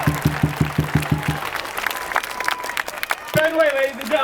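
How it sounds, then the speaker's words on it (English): Applause and crowd noise at an AAPI rally against hate in Chinatown, scattered outdoor clapping with cheers, starting over a rhythmic low pulsing, with voices and a brief whoop toward the end. "Another round of applause."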